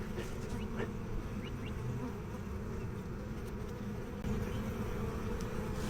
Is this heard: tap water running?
no